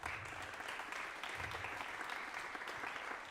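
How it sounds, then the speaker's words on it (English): An audience at a percussion ensemble concert applauds the house manager: a soft, even wash of clapping from a distance that holds steady without a break. "let's give him a round of applause."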